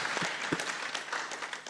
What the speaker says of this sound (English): Let's clap for Dr. Lena.